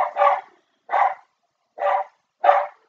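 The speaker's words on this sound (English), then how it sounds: "I got two dogs, guys." Two pet dogs bark four times in an evenly spaced series of short, sharp, fairly loud barks close by, with silence between them and no talk.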